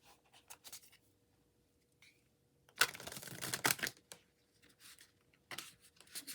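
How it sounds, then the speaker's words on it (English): Tarot cards are shuffled by hand in quiet bursts of papery riffling, the loudest flurry in the middle, with soft clicks and near-silence around it. "Let me shuffle."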